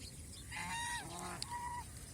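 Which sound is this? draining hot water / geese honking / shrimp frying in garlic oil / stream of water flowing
geese honking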